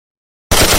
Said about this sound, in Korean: 총성이 울렸죠.